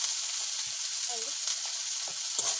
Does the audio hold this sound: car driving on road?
no